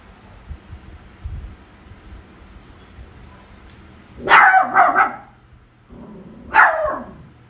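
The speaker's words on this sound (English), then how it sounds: "So says my dog also." A dog barks in two bursts, a quick cluster of three or four barks followed by a single bark a moment later, fairly close and loud over a low background hum.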